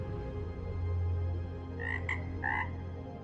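A toad croaks in a desert terrarium with sand, rocks, cacti and a waterfall; a few short croaks come near the end over a low steady hum.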